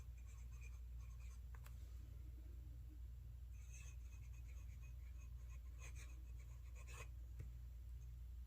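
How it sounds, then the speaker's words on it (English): Faint scratching of a fountain pen nib on thin onion skin paper, with soft intermittent strokes and small ticks over a low steady hum, no voices. "Writes very well on the onion skin paper."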